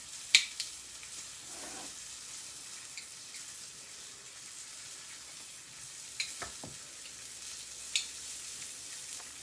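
Chicken breasts fry in a pan with a steady, close sizzle throughout, broken by a few sharp clicks and light utensil taps; no one speaks.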